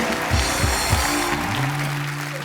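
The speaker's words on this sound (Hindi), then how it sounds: "जोरदार तालियां जैकी और टाइगर के लिए।" A TV comedy show studio audience claps for Jackie and Tiger on Kapil's show, a steady wash of applause mixed with loud music stings and swooshing tones.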